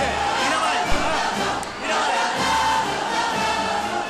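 Dense crowd din from a festival procession accompanying the giants at the Patum in Berga, Catalonia, a steady roar of many voices with a brief thump near the start.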